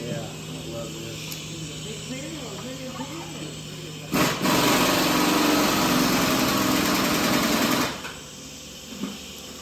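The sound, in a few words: TIG welding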